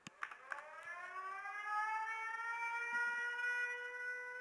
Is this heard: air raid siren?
yes